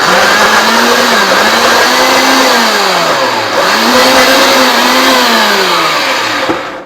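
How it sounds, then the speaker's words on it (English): A loud high-speed blender whirs steadily, blending sweet potato into a paste, its pitch dipping and rising as the load shifts, running continuously without talk. "I'm going to just blend all of these into my high-speed blender to paste"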